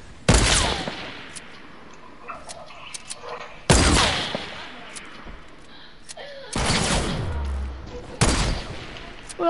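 Several loud bursts of video game gunfire, each a sharp shot or short volley followed by a decaying tail, spaced a few seconds apart, with people talking in between.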